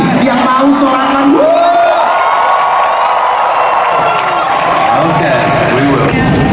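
At a lively church event a large crowd cheers and whoops continuously, loud and close, with shouted voices rising above the roar.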